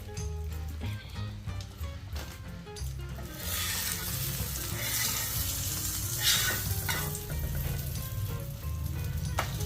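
An egg omelette with bread frying in a pan gives a steady sizzle that swells louder partway through, over a low hum of background music.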